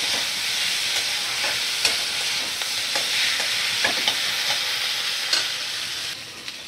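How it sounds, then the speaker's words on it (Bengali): Spices with turmeric and salt frying over a medium flame for a cauliflower and potato curry, a steady loud sizzle broken by repeated scraping stirs, with no voices. "সব মশলাগুলো ভালো করে নাড়াচাড়া করে নিচ্ছি"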